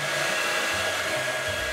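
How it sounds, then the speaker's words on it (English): A hair dryer on a medium heat setting, used to shrink window film, blows in a constant, loud whooshing roar with a steady motor whine and no pauses. "Heat the window film using a hairdryer on a medium temperature setting"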